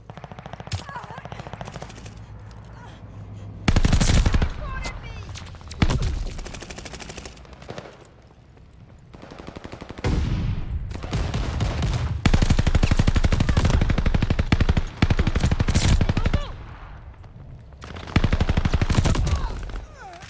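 Call of Duty Vanguard gunfire in a Hardpoint match, repeated loud bursts of rapid automatic fire in bunches with short quiet gaps, game announcer voices and talk in between.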